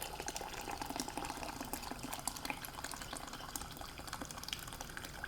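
Previously boiled water is poured from a kettle into a pot of red lentil curry and vegetable soup, a quiet, steady splashing and gurgling stream that runs for several seconds without any voices.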